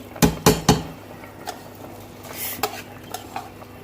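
Rice stirred into a pot of water and lightly cooked potatoes, a spoon scraping the metal pot in three sharp strokes followed by softer clinks and a faint sizzle, close and alone.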